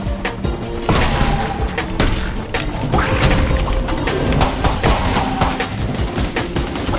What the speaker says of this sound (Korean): 누가 총 쏘는 그 리볼버 총소리 같은데?